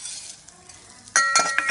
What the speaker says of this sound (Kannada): ಅದು ಚೆನ್ನಾಗಿ ಒಂಥರ ಹಪ್ಪಳ ಥರನೇ ನಿಮಗೆ ಫ್ರೈ ಆದ ಕಾಣುತ್ತೆ.